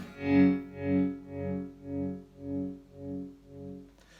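A Roger Mayer Voodoo Vibe pedal set to tremolo with a symmetrical sine wave swells a sustained guitar chord up and down in even, smooth pulses about twice a second, fading slightly as it rings on alone.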